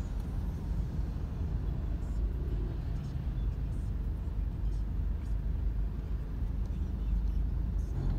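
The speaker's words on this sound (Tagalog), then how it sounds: "Grabing traffic pala." Dense traffic rumble near the Makati tunnel by Ayala, a steady low roar of many cars and idling engines with no distinct passes, continuous and fairly loud throughout.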